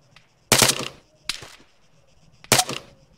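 M200 sniper rifle in a video game firing three sharp, loud shots spaced about a second apart, each with a brief ringing tail, with no talk over them.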